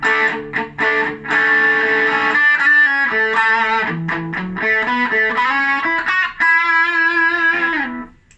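A PRS DGT electric guitar on its bridge pickup plays a lively distorted lead line with sustained notes and quick runs, loud and alone with a short fade at the end.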